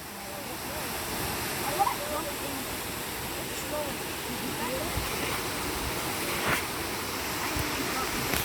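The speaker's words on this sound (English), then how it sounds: "this is the waterfall." Steady rushing roar of a waterfall in Tennessee, broad and continuous, heard close up and alone with no talking.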